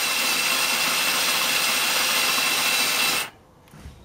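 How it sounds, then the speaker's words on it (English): A drill bit turning at slow speed bores into a rusty screw holding a stuck brake rotor, giving a loud, steady grinding whir for about three seconds before it stops abruptly, leaving near silence with a faint knock. "See how much quicker this drill bit cuts."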